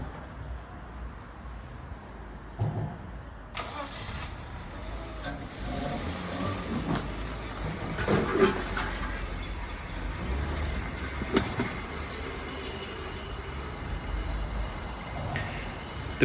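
A BMW E34 that sat outside for fifteen years drives with its engine humming steadily from inside the cabin, a low continuous rumble with road noise, occasional clunks and faint speech mixed in.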